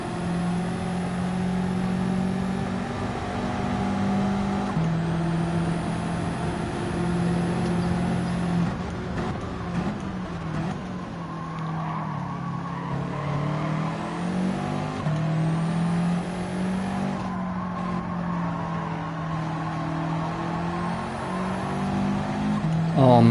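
A race car in Gran Turismo 7 drives down a straight, its engine drone steady and loud throughout with shifting pitch, some tyre noise and a voice talking over it.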